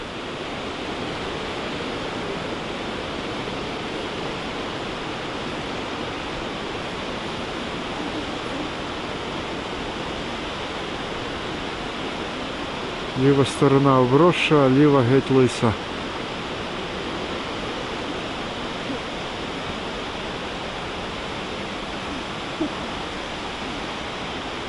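Steady roar of a waterfall at the upper falls in Johnston Canyon pours through the whole stretch, loud and unbroken, with a voice briefly speaking over it near the middle.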